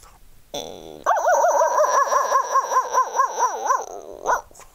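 A mimicry artist imitates a distant dog barking, calling from a neighbouring village: a rhythmic run of about a dozen wavering, howling barks, clear and steady.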